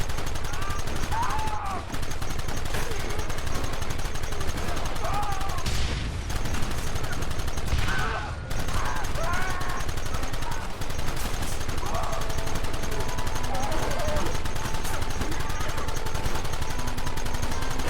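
Gunfire in the Red Dead Redemption video game, with sustained, dense volleys of shots running throughout amid battle noise, and voices shouting briefly in the background.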